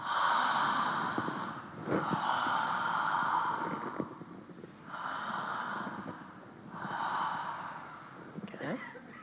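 Slow, deep breaths during a guided breathing exercise, each long inhale and exhale clearly audible and close, repeating in a steady rhythm of about four breath cycles with no talking.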